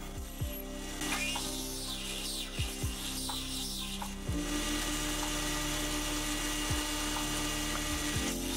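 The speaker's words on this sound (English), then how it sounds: "A hole is drilled through the aluminium to allow a bolt to hold it to the top slide." A drill bores a hole through aluminium stock for a lathe tool post, a steady grinding mechanical whir with several sharp scraping bursts, rising to a stronger continuous drone in the second half, with no talk.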